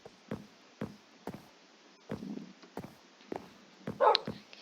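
Several Minecraft dogs in a hardcore survival game bark in short, evenly spaced yaps, about eight in a row, with one higher whimpering yip near the end.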